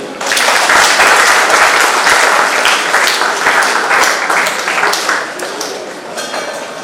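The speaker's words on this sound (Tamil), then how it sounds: "கைதட்டுங்க." An audience at a Children's Day debate event claps loudly and densely, a thick burst of many hands that gradually thins toward the end, with voices faintly mixed in.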